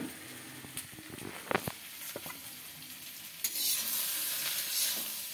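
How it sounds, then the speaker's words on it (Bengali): Oil sizzles in a pan as dried red chilies and bay leaves fry for greens, with stirring clinks and scrapes near, the frying hiss swelling louder in the final seconds. "এখানে শাকের জন্য তেল দিয়ে দিলাম, শুকনো লঙ্কা দিয়ে দিলাম, কিছু তেজপাতা দিয়ে দিলাম।"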